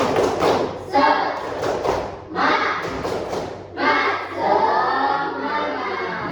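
A primary school class does a rhythmic spirit clap in bursts, with groups of quick claps and thumps separated by short pauses, fairly close and lively, with voices chanting along.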